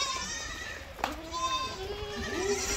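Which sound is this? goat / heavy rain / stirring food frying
goat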